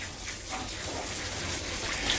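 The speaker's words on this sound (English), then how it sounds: "So same nozzle, and it rinses through this Bather Box." Fresh water gushes through a BatherBox bathing-system nozzle while a dog is rinsed, a steady close rushing spray with no one talking.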